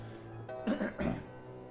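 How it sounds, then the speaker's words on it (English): A person clears their throat and gives a short cough, close and brief. "I just developed a cough right before I turned on the mic."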